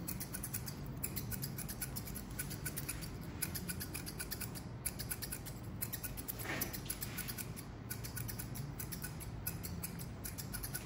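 Steel scissors snip hair near the back of the head during a mid fade haircut, giving a steady run of close, crisp metallic clicks and small cuts with no talking.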